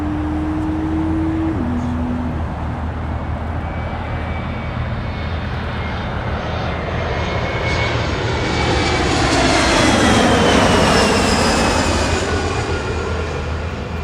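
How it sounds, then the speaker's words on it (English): An Embraer 175 jet airliner at Los Angeles International Airport roars past with a sustained engine drone that swells toward the middle and then eases off, loud and continuous. "Embraer 175 on a 1-hour, 1-minute flight from San Francisco, California"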